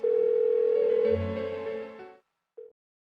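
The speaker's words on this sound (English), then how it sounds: "Why won't she pick up the phone?" A telephone rings unanswered in the video game Persona 4 Golden: one long, steady electronic ring of about two seconds, then silence and a brief final blip of the tone.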